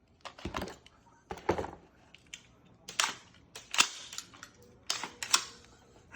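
A WE M4 RIS gas blowback airsoft rifle fires at a target in a series of sharp snapping shots with mechanical clacks, spaced irregularly and close by.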